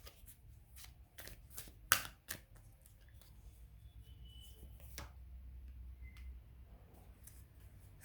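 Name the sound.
drawing tarot cards from a deck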